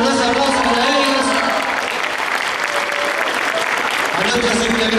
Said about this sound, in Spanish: A nuestros amigos músicos también, un caluroso aplauso para ellos.